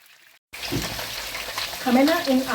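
Amla, Indian gooseberries, drop into a hot pan for pickle and sizzle loudly and close, with a steady fry hiss and stirring scrapes, while someone speaks over the second half.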